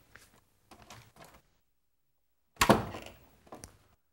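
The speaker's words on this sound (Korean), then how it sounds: "문소리를 한번 내보겠습니다." A door is opened and then shut in a quiet room: a sharp wooden thunk and rattle lands in the middle, with a few softer knocks and creaks before it and a light knock after.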